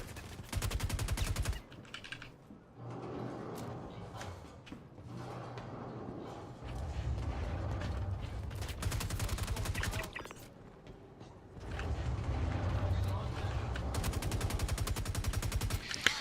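Sustained automatic gunfire laying down cover fire in the video game Star Citizen, loud rapid bursts separated by short pauses, with faint talk underneath.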